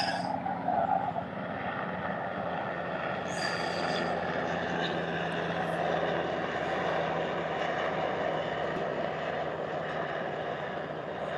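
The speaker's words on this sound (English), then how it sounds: "Helicopter taking off." A helicopter takes off in the distance during metal detecting in Canada, its engine a steady, moderately faint droning whine over outdoor background noise.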